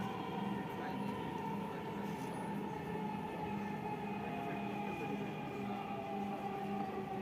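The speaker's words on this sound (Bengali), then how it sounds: "তো আমরা মেট্রো রেলে চলে আসলাম" Inside a moving Dhaka metro rail train between Mirpur and Uttara, a steady rumbling carriage hum with a tonal whine runs throughout at moderate level, while a person talks over it.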